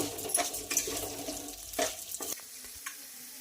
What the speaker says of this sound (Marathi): तर छानपैकी असा फ्राय करायचा आहे जोपर्यंत हा फुलत नाही